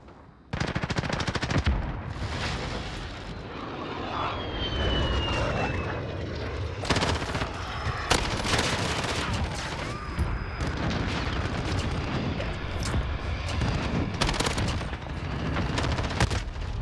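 RAM-7 assault rifle fire in Modern Warfare, loud rapid bursts of automatic gunfire with sharp cracks and brief pauses, mixed with aircraft engine drone and other battlefield noise, with no talking.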